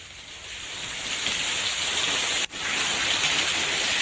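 Steady rain pours down close by, a dense, even hiss that swells slightly and holds at a constant level, with no voices.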